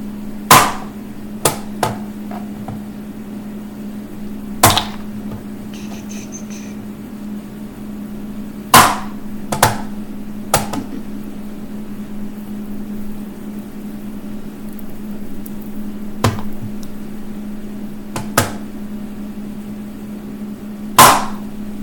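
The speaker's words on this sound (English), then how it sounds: "we're just going to chop it to make it look more like a crystal" Sharp, isolated chops land on a model being cut into a crystal shape, about nine hits spaced irregularly over a steady low electrical hum, fairly close and moderately loud.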